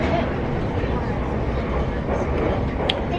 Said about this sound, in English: I'm now on the train